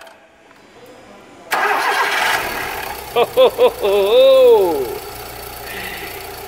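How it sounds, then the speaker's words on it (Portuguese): A Volkswagen Fox 1.0 EA111 engine on a workshop rebuild cranks with a few sharp starter bursts, then catches and settles into a steady idle, with a brief laugh over it. "Dá uma olhada aí, funcionamento desse motor."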